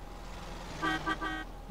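A car horn in the GTA San Andreas multiplayer (MTA) video game gives three short, close honks in quick succession over a low background hum.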